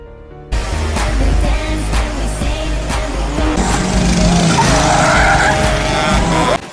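Racing cars skid and squeal their tires continuously over loud engine roar, a dense, sustained scene of competitive driving with no voices.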